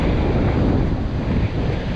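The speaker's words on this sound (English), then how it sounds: "The wind is howling." Strong wind howls across an open beach during a small-wave surf session, a loud, steady roar that buffets the microphone, with surf rumbling underneath.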